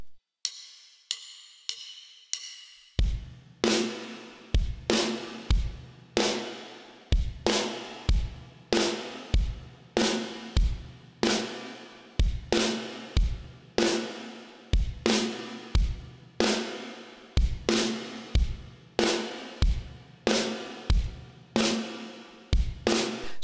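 A drum kit plays the main four-bar groove of a song, with flams on the snare, steady and evenly spaced hits after a few light ticks of count-in, loud and close.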